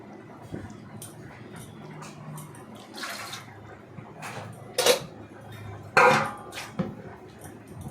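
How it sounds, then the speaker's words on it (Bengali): Mutton pieces being washed in water in a kitchen for biryani: irregular splashes and sloshing with sharp clinks from a bowl or pot, louder bursts near the middle and end against quiet background rustle. "সেটাকে ভালো করে ধুয়ে নিলাম"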